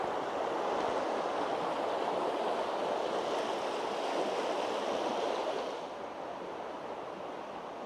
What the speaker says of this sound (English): Quick little look at the river.